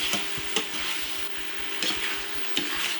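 Beef liver with lemon juice and cilantro frying in a pan, a steady close sizzle broken by a few sharp clacks of a utensil stirring against the pan.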